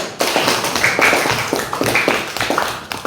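A classroom of students claps together in a rhythmic, patterned beat, the claps close and distinct with brief pauses between groups, repeating for a few seconds.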